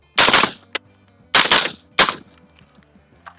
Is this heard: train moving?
no